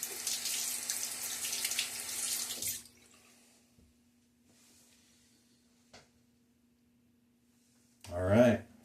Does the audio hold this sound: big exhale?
no